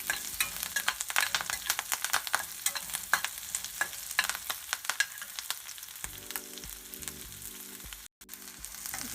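Small onions frying and being stirred in a pan for mutton keema, a steady dense sizzle with scraping spoon strokes throughout, close and moderately loud, no voices.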